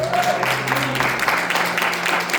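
A church congregation applauds God during a sermon. The clapping is steady and moderately loud over a low, sustained hum, and some voices can be heard underneath it.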